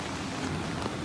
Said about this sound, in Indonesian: sementara sekarang lagi hujan, lagi turun hujan